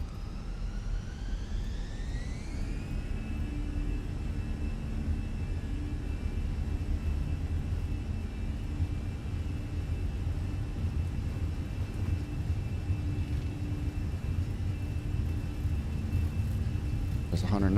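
A Fenix A320 in Microsoft Flight Simulator builds to a steady, loud jet engine roar on its takeoff roll, with a rising whine early on and continuous rumble throughout.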